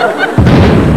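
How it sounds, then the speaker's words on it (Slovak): A sudden loud explosion bursts in after a brief quieter moment and rumbles on heavily to the end. "To bol výbuch."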